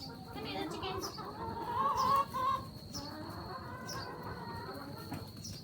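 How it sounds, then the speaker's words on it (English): Chicken clucks in short bursts close by, with a few brief higher calls standing out over a steady background hum and soft rustling. "Come here, little chicken."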